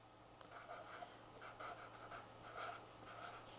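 Pencil writing on paper during a first-grade classroom lesson, a soft continuous scratching with short stroke bursts, faint and close, with no talk over it.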